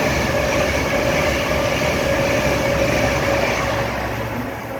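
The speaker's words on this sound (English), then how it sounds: "passing through now is a 807 doing a service from London Euston to Liverpool Lime Street" An Avanti Class 807 train on a London Euston to Liverpool Lime Street service runs through Rugby station, a loud, steady roar of wheels and engine sustained throughout, with a faint tonal hum over the rumble.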